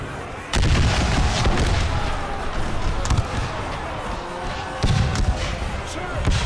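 Cannon and artillery fire in an American Civil War battle video game, with heavy booms at the start and again near the end over a continuous din of battlefield noise, while a voice talks throughout.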